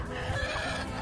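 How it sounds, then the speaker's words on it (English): An adult backyard chicken with curled toes makes low clucking and murmuring calls close by, a steady soft stream of fowl sounds without speech. "that's our curly toast chicken"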